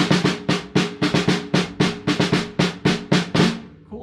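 A snare drum with the snare wires engaged by its lever, played in a brisk, steady rhythmic pattern of about sixteen crisp, buzzy strikes, close and loud with nothing else audible.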